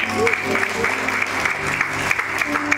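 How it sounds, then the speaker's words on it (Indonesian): A church congregation in an Indonesian-language service applauds steadily over a low musical drone, with individual claps standing out through the dense crowd texture and a voice faintly present. "Tepuk tangan buat Tuhan."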